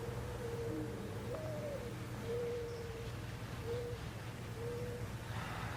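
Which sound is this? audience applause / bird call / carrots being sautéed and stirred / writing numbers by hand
bird call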